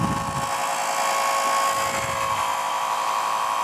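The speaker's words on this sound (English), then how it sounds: "You'll hear the sound of the motor, and it's pretty loud, but it's not unbearable." An electric motor on a wine filter machine runs loud and steady, a constant high-pitched whine and hum with no break or talking.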